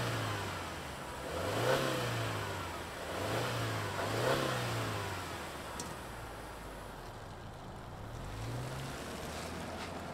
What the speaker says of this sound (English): Let's fire it up and hear what it sounds like.